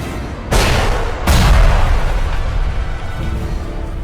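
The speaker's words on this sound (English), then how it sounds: "And that huge explosion." Two deep, loud explosion blasts from the movie Jurassic Shark, the second heavier and rumbling longer before fading into a low, sustained roar.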